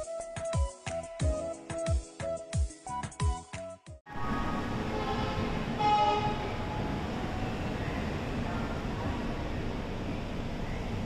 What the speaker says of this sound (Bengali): যখন আমাদের ট্রেন হাওড়া স্টেশন থেকে ছাড়ল